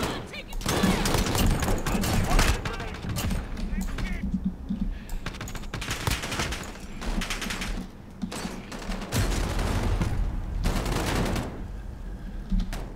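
Gunfire in Call of Duty: Modern Warfare, a dense run of rapid shots and bursts that keeps coming for the whole stretch, loud and close, with someone talking over parts of it.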